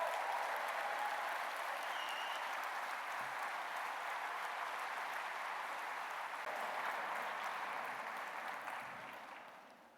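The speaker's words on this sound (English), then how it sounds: "Can we have a round of applause for our fantastic sign language interpreters?" Sustained audience applause at a poetry prize reading, a steady dense clapping from a large indoor crowd that fades out near the end.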